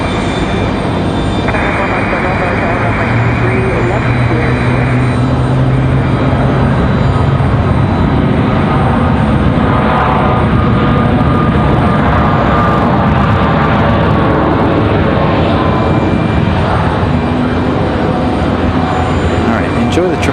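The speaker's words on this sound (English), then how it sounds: "Here comes our Max 9 United from Newark." A United Boeing 737 Max 9 airliner arriving from Newark at Raleigh-Durham airport gives a steady, loud engine roar that fills the whole span, with a voice talking over it at moments.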